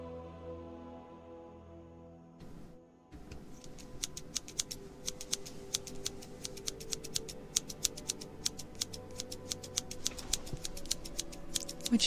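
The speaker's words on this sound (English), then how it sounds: "next we have scissors." Metal scissors snip over and over at close range for an ASMR trigger, each crisp cut sharp and distinct in a steady, slightly irregular rhythm after a brief quiet start.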